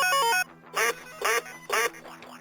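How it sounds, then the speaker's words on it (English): Three loud, evenly spaced quacks from a duck in the Deponia Doomsday game, following a brief melodic jingle and leaving faint ringing tones behind. "A duck never gets old."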